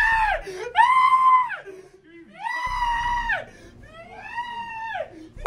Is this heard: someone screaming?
yes